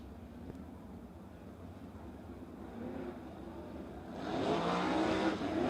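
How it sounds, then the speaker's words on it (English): A race car engine hot lapping on a dirt track at Stockton, heard from a distance as a steady rumble that swells louder toward the end as the car comes nearer, with no talk. "he's going to try and hot lap in the Styles Motorsports number 11 car"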